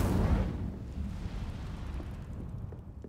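Incendio fire spell being cast in Hogwarts Legacy, a loud roaring whoosh of flame that bursts at once and then rumbles steadily at lower level for a few seconds, with no talk.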